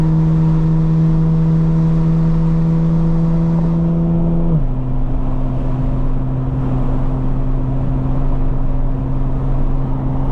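2025 BMW M4 Competition xDrive cruising around Destin, Florida, a steady in-cabin engine hum with a clear drop in pitch midway as it shifts, under constant road noise.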